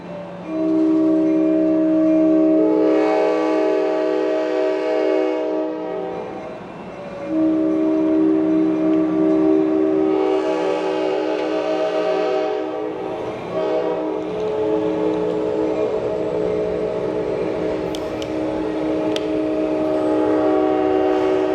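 An Amtrak Pacific Surfliner train at Santa Barbara station sounds long, loud, multi-tone horn blasts in repeated bursts, with rumbling railcars and mechanical noise between and after the horns. No voices are heard.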